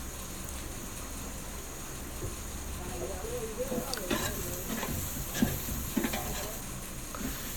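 Green chillies and turmeric powder sizzle in a hot pan while being stirred, a steady hiss with occasional scraping clicks of the spoon, moderately loud throughout.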